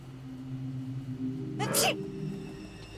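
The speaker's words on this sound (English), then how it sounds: "Keep the sneezing down" A single sneeze from a woman in an Arctic survival game bursts out about halfway through, brief and fairly loud over a low steady hum.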